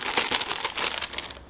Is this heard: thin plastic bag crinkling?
yes